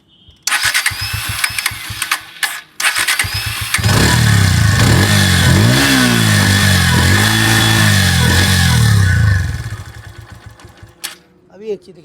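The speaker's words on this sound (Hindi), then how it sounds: "मैं एक बार फिर से इंजन साउंड सुनाता हूँ आपको।" A Bajaj Pulsar N160 single-seat motorcycle with about 10,000 km on it cranks and starts nearby, then its engine revs loudly in repeated rising and falling pulls before cutting out, with someone talking around it.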